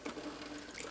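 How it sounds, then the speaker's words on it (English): Water is sprayed into a proofing banneton for sourdough, a faint continuous hissing spray lasting about a second with no talk. "just to kind of spray some water in"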